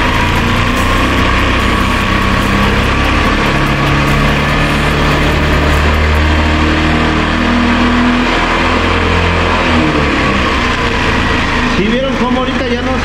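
An Italika TRN-150 motorcycle engine with a no-spark fault is revved gradually, a loud close buzzing idle rising and falling in pitch, with a voice talking over it.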